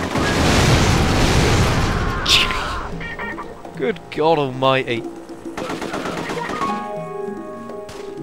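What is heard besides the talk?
massive explosion in video game The Getaway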